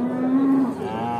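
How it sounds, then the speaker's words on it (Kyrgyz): A cow lowing at the Sokuluk cattle market in Kyrgyzstan, one loud, close moo that starts steady and then rises in pitch toward its end, with no talk over it. "Мына уйларды караңыздар, бүт кызгымтыл, өзгө тоого бага турган жакшы уйлар экен."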